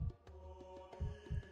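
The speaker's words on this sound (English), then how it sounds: "Got the heartbeats in the background." A heartbeat sound effect in an animation throbs low and muffled, with paired beats repeating at a steady pace over a faint continuous hum.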